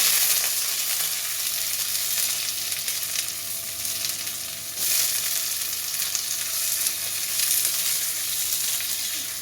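Chopped onion and capsicum sizzle steadily in hot oil in a kadai after ginger and garlic, a loud continuous close hiss with slight swells, no voices.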